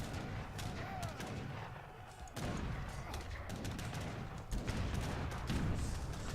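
Cannons fire repeatedly in a real-time strategy battle, a steady barrage of booms and gunfire crackles layered under quiet commentary voices.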